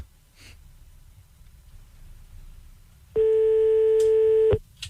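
A telephone line tone sounds while someone calls a person back: after quiet room noise and faint breathing, a single steady electronic tone plays for about a second and a half, then cuts off.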